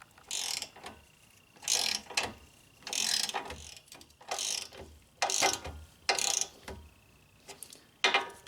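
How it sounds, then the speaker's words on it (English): Ratchet wrench tightening CV axle bolts on a 2006-2011 Honda Civic during final torque: bursts of rapid pawl clicking in about seven spaced strokes with short pauses between, close and moderately quiet, no talking. "Now we'll do the final torque. It is 43 foot-pounds."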